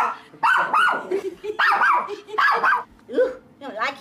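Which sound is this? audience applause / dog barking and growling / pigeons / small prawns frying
dog barking and growling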